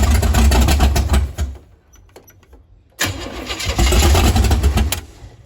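A 468 big block Chevy engine in a Nova cranks loudly and sputters, dies to near quiet for about a second and a half, then cranks and roars again close by.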